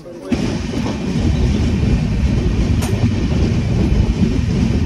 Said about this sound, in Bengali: চলো আমাদের ট্রেন চলে এসেছে